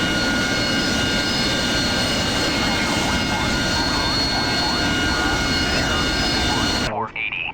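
Loud, steady roar of an AV-8B Harrier jet engine in the DCS World flight game, a continuous whine-laden drone that fills the clip before cutting off abruptly near the end.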